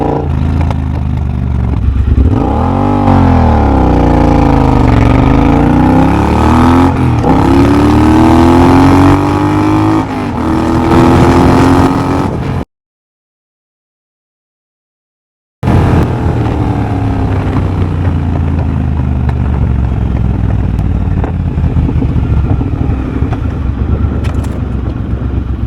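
A Triumph Bobber motorcycle with de-cat and a drag pipe accelerates hard from 0 to 60 mph, its loud engine pitch climbing through several gear changes with wind buffeting, then a short silent gap before steady high-speed engine drone resumes.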